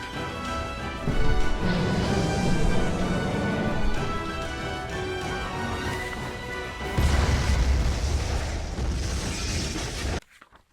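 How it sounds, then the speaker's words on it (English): A huge explosion in an attic in the horror video game SCP: Secret Files, a loud booming crash with rumbling debris that swells twice and then cuts off abruptly. "A huge explosion from the impact drowned out everything else in the attic."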